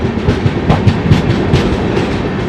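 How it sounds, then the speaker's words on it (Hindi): The Barauni–Ernakulam Raptisagar Express passes close by with loud, steady rumbling and a repeating clickety-clack of wheels over rail joints, with no speech. "बरौनी एर्नाकुलम राप्ती सागर एक्सप्रेस, जो कि ऐशबाग की दिशा से आई है"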